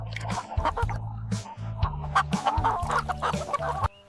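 Laying hens on a countryside farm cluck steadily and close at hand, with a low droning hum underneath, before stopping abruptly near the end.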